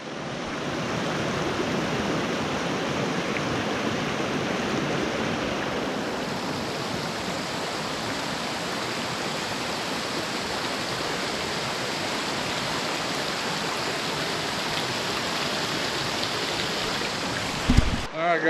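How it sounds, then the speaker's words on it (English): A mountain river rushes in a loud, continuous roar of broadband white water that holds steady throughout and ends with a brief close knock. "I need to cross the river and get over there"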